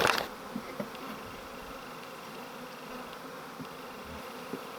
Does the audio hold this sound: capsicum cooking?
no